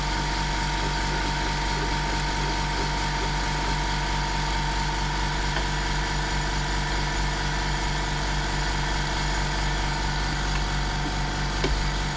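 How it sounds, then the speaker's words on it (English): An air compressor runs nearby while a Brother XL5012 sewing machine is serviced, giving a loud, steady mechanical drone with a fast rhythmic low pulse that continues unbroken for about twelve seconds without speech. "Excuse the noise of the compressor."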